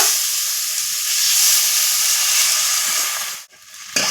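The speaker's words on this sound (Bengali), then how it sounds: "আর এখানে একটু আমি জল দিয়ে দেব" Loud, steady sizzling hiss as water hits a hot pan of fried chickpeas, holding for a few seconds before briefly cutting out and resuming.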